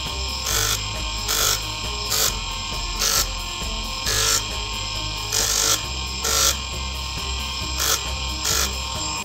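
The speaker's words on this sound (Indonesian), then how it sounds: "Selanjutnya kita amplas lebih halus lagi nomor" Grit 150 sandpaper rubs over a brass pendant in a rhythmic series of short scraping strokes, roughly one per second, close and fairly loud, with no voices.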